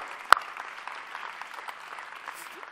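A room full of people at a startup ecosystem event claps briefly for the startups. One sharp nearby clap stands out over a faint, scattered patter of applause that stays low and brief.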